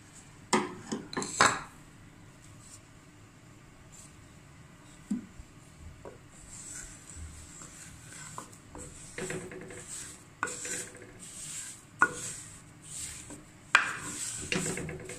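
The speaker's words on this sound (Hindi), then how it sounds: "अब मैं इसको अच्छे से भून लेती हूँ, तकरीबन 8 से 10 मिनट तक इसको मैं इसी तरह अच्छी तरह से भूनती जाऊँगी" Semolina stirred and roasted in hot oil in a pan, with repeated scraping and clinking of a utensil against the pan in irregular bursts, close and moderately loud, no talking.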